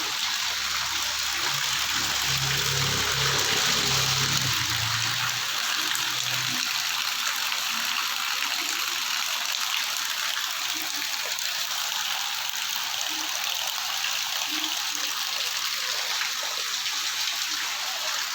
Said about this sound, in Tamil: இப்போ தான் பயங்கர மழை பெய்யுது